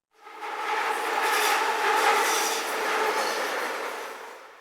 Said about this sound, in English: this sample is the Metro going through a corner and you hear the rails squeaking